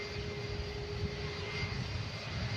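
A Boeing 757 arriving from Malaga drones faintly and steadily at a distance, a continuous low jet rumble with no talk over it.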